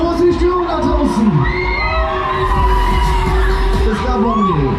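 A crowd at the Break Dancer fairground ride by Wingender, at the Gernsheim Rheinisches Fischerfest, whoops and cheers loudly and continuously. Rising and falling yells and shouts run over a dense, steady background.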